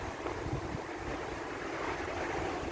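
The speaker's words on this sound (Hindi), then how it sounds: "बाहर अच्छी खासी तेज़ हवा है, शदीद ठंड भी है" Strong, very cold wind blusters outdoors on a road journey from Dubai toward Makkah, a constant rushing noise with low buffeting thumps against the microphone.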